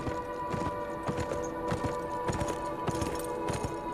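Hooves of a galloping horse in the video game Beyond: Two Souls clop in a steady repeating rhythm over a constant tonal game backdrop, with an occasional faint whinny.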